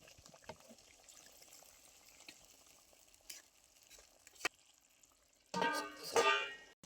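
Water poured into a pot of browned chicken and newly fried potatoes gives a loud burst of hissing sizzle near the end, after a stretch of faint kitchen clatter.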